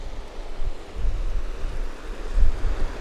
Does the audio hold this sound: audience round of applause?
no